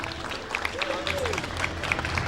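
Audience at a dubbing conference applauding a voice actress, a steady wash of clapping under a murmur of crowd noise, with speech faintly audible beneath it.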